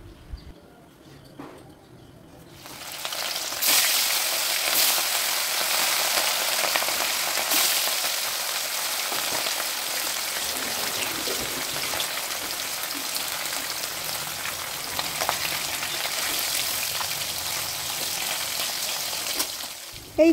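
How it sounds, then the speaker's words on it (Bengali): Water lily stems fry with a steady, loud sizzle after a mustard seed tempering, the crackle starting abruptly a few seconds in and holding close and even to the end. "এইখানে আমি সর্ষে ফোড়ন দিয়েই ভাজাটা বসিয়ে দিয়েছি"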